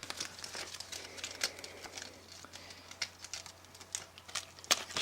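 A cut-off strip of Lego Hero Factory package cardboard is handled up close, crinkling and crackling in uneven bursts with small ticks and rustles throughout, no talk.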